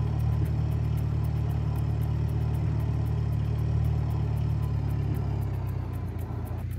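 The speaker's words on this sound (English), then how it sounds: "I feel like the dozer's got a different sound." A bulldozer in the Dozing and Digging video game runs with a steady mid-pitched engine drone and a rhythmic ticking of tracks, the drone easing off near the end.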